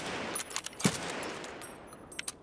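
Single AK rifle pop shots fired in the video game Escape From Tarkov, a few sharp cracks spread out over steady game ambience, with one stronger shot standing out among fainter ones.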